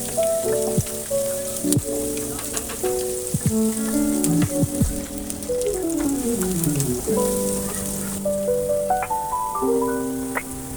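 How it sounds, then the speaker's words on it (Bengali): Chopped onion, cloves, bay leaf and peppercorns fry in oil over medium heat with a steady crackling sizzle, broken by irregular pops. A faint melodic background sound plays underneath. "এবার সবকিছু একসাথে মিডিয়াম আঁচে ভেজে নিব"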